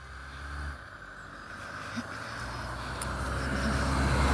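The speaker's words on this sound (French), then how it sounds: "il y a une voiture qui arrive" A car approaching along a roadway outdoors, its low engine and tyre rumble building steadily from moderate to louder over several seconds, with no talk.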